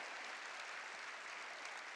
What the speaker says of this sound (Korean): 박수로 하나님께요.